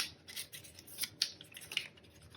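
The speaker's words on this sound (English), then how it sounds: "It's a hard deck to shuffle, a lot of cards." A large deck of cards for the Robinson Crusoe board game is shuffled by hand, giving soft papery riffles and crisp scraping flicks in quick irregular bursts, close and quiet.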